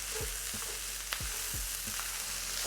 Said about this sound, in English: so that way that rice can really fry